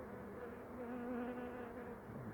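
Honeybees buzzing steadily in a close, dense drone while a beehive is being relocated from a house, a continuous hum with slight wavering pitch.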